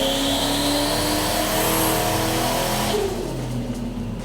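A V8 turbo Ford Fairlane engine runs under full load during tuning, holding a loud, steady high rev that drops off toward the end.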